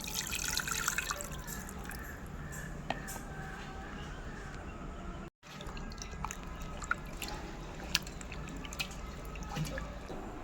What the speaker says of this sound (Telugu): ఇప్పుడు ఇది వాటర్ వేసి శుభ్రంగా కడుక్కుందాం